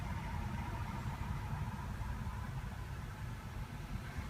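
A 2016 Mercedes-Benz CLA45 AMG engine idles with a steady, low rumble, continuous and fairly quiet, with no talking.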